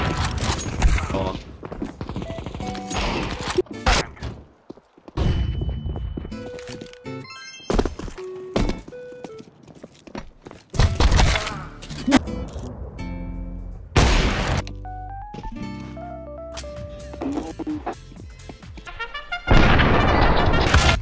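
Gunfire in a fast-paced video game comes as repeated sharp shots and thuds scattered irregularly among tonal game effects and beeps, loud and close with brief gaps.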